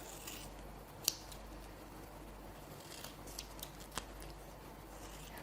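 Scissors snip along the edges of double-sided tape on a jewelry saw-piercing design, giving a sharp close cut followed by a few fainter snips over quiet room hiss.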